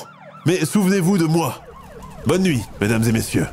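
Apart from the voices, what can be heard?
distant sirens of police cars and fire engines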